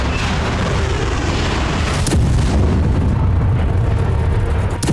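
Heavy rumbling blasts from missile strikes in war footage fill the clip: a dense, loud low roar with a sharp impact burst near the middle and sustained booming around it. No one speaks.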